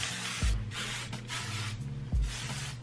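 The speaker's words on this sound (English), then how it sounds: "I just need to hairspray it" Hairspray sprayed onto freshly curled hair, two short close hissing bursts in the room, one near the start and one near the end.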